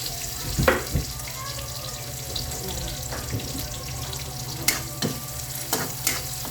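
Sliced onion frying in a pan while making sautéed pink salmon, a steady sizzle with occasional stirring clatters close by.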